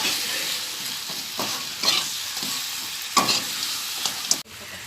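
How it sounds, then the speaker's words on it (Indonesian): Soy sauce chicken sizzles steadily in a frying pan while a utensil stirs it, scraping and clacking against the pan in a few distinct knocks, close up with no talking. "Lalu kita aduk lagi sampai rata."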